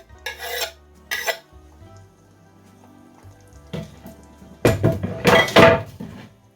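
A spoon stirs chicken pieces with sliced green chillies in a cooking pan, with a few scraping and clattering bursts at the start, then louder, denser stirring and scraping near the end.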